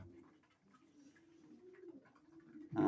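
Pigeons coo softly and close by in low, rolling, repeated phrases, ending with a brief louder rustle.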